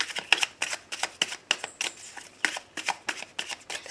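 A deck of cards for a card reading is riffled and shuffled in quick, rhythmic bursts of crisp papery flutters, close up and steady, with no talking.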